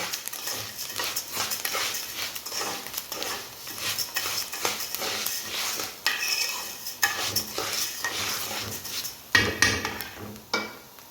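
Rice being stirred in a pot with ghee (samna) while preparing Ramadan rice kofta, giving a steady run of scraping, clinking spoon strokes with light sizzling throughout, a few louder knocks near the end, no talking.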